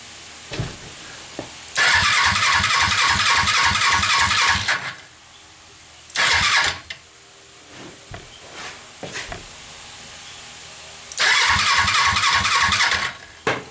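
A Suzuki motorcycle engine is cranked on the electric starter in three separate attempts, with rapid rhythmic churning bursts, the first and last lasting a few seconds and a short one in between, separated by near quiet.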